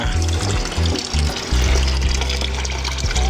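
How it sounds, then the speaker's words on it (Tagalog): Water is poured into a container in short gushing bursts and then a steady, close, continuous splashing pour, with no talking. "Lagyan lang natin ng tubig para kahit papaano may tubig sila."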